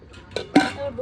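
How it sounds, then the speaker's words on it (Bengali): A metal lid set onto a pot while jackfruit biryani cooks, two quick clinks close by in a quiet kitchen. "এখন ঢাকা দিয়ে দেবো।"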